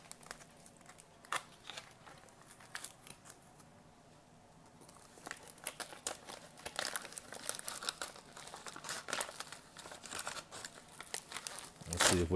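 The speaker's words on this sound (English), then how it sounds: "It tears pretty easily." A foil food packet from a 1975-79 U.S. military LRP ration, chicken entree, is torn open at its notches and crinkled. Irregular crisp crackles and rips come up close, growing busier toward the end.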